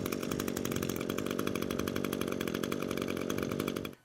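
ECHO string trimmer engine running after a start, a loud, steady high-revving two-stroke buzz held at constant pitch for about four seconds before it drops away, with nobody speaking.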